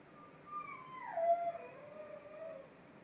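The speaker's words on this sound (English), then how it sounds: "My dog is in his cage right now and he's being a crybaby" A dog caged indoors whines and howls in a long, wavering, falling cry, faint to moderate and somewhat distant, alone against a quiet room hum.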